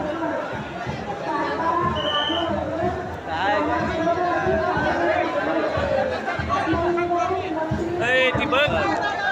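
A large crowd of pilgrims at Jyotiba temple in Kolhapur during the Chaitra Purnima yatra, a dense continuous babble of many voices close around, with someone talking over it.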